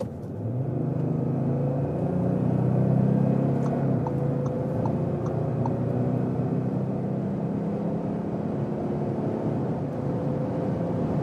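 An Audi S4 with a 3-litre diesel, European version, accelerates hard toward 180 km/h, giving a steady, dense engine and road rumble with slowly rising tones, heard continuously from inside the car.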